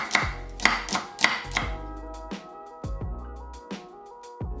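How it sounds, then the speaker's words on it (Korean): A kitchen knife thinly slices a quarter of an onion with about a dozen crisp, close chopping strikes in an uneven rhythm, heard alone without talk. "양파 4분의 1개는 얇게 채 썰어 담고"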